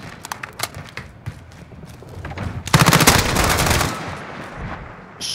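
Rapid automatic gunfire from the video game Call of Duty Modern Warfare bursts out loud and sustained over scattered shots and game effects.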